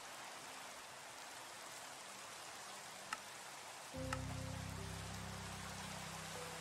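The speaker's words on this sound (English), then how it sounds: "Oh, good, it's raining." Rain falls in a video game as a soft, even hiss that runs steadily and faintly. Partway through, a low droning hum joins it.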